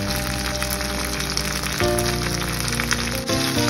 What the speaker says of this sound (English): Put a teaspoon of Sichuan sauce and then stir fry into the meat.